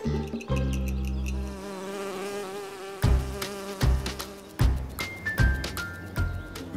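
Honey bees buzz steadily around a wooden bee box in a yard, a close insect drone with bursts and swells that come and go over a background of layered tones.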